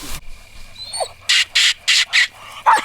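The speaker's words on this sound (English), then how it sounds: "I got this pup tied up. I'm trying to get her barking on a little bit." A Walker coonhound pup tied up at night during a coon hunt barks in a quick run of about five loud, harsh, evenly spaced barks, close by, with no talking over them.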